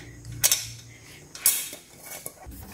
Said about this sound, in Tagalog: Kunin ko na itong kaldero, magsaing na ako.